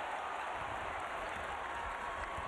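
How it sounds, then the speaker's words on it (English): Basketball arena crowd at a college game, West Virginia against Rutgers, a dense continuous roar of shouting and clapping that stays at an even level throughout, with no distinct individual voices. "Crowd again looking for a call."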